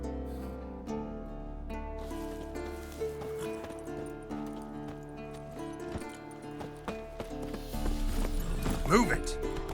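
Horse in The Witcher 3 video game moving at speed, hooves clip-clopping steadily throughout over a bed of game music, with a whinny near the end and a voice speaking over it.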